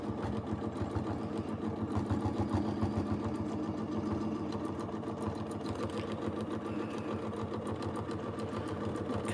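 A domestic sewing machine in ruler work mode runs steadily for free motion quilting, its fast rhythmic needle chatter continuous and close with no pauses.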